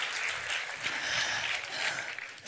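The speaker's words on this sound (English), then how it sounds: "give him a round of applause." An audience at a talk on feng shui applauding a participant, a steady wash of hand claps from a room full of people, moderately loud and continuous for a couple of seconds.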